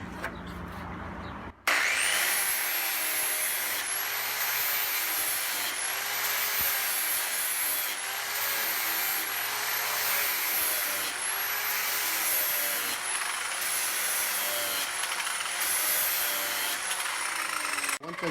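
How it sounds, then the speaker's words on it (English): A 7-inch angle grinder with a flat disc sharpening a Ferris IS700 mower blade, starting abruptly and then grinding loudly and continuously up close, with a high whine over a harsh, steady rasp. "7-inch grinder with a flat disc. And I don't count the amount of strokes. I just kind of watch what I'm doing whenever I grind this."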